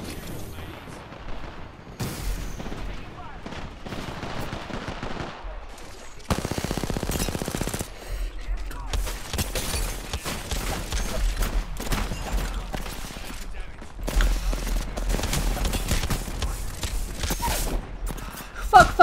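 Rapid video game gunfire in a ranked shooter match, with bursts of automatic weapons fire and heavy explosive booms, some close and loud, others more distant, continuing through most of the stretch with brief pauses.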